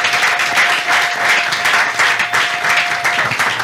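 A church congregation applauds in a dense, loud, steady wash of many hands clapping that fills the whole moment, with a faint sustained tone running beneath.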